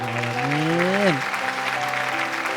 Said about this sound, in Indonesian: tepuk tangan dong untuk Najah